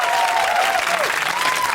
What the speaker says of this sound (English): a big round of applause for the Austro-Italian border